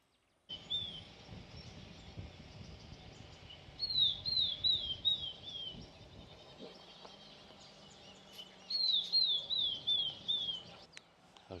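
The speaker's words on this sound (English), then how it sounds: "Abyssinian thrush in the tree." An Abyssinian thrush sings from a tree in repeated short phrases of bright, rising-and-falling whistled notes, heard in two clear bursts over a steady background hum of distant noise.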